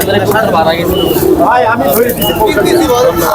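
Pigeons coo loudly and close by at the Tebaria pigeon market in Natore, their soft warbling calls overlapping with people talking nearby.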